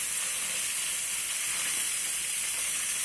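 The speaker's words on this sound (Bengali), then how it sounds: "তাই মাছগুলো একটুকু লেগে যাচ্ছে না, খুব সুন্দরভাবে ভাজা হয়ে যাচ্ছে" Salted pieces of bhola fish frying in hot oil in a pan, producing a loud, dense, continuous sizzling hiss with no pauses and no voices.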